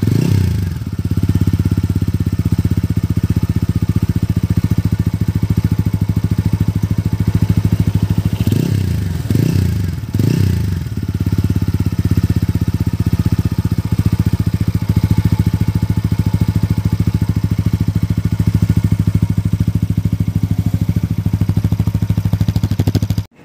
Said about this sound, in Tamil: ஸோ எக்ஸஸ் நோட் வந்து கேட்டு பாருங்கள்.